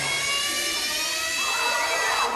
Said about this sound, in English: It's a power tool that I sampled, and that saw.